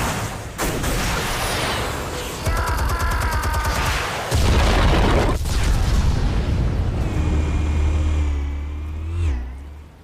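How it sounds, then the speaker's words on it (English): Explosives detonate in an animated Batman film, with loud blasts and rumbling booms mixed with mechanical whirs and rising whines, dense and continuous, ending in a long low roar. "Explosives armed. Fire when ready."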